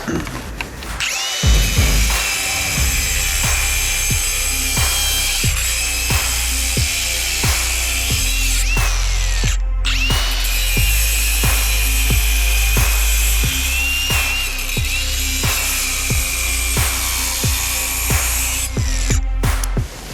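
A Milwaukee M18 cordless angle grinder cuts through a brick with a loud, continuous high-pitched whine and gritty abrasive grinding. The motor stays near and steady for about twenty seconds, briefly dropping out twice.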